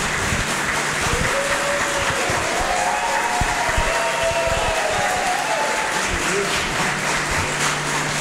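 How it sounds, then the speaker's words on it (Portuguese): A lecture audience at a jury-trial training event applauds a speaker, broad continuous clapping with a faint tonal hum and a voice murmuring underneath, fairly loud and close throughout. "Mais um aplauso aqui"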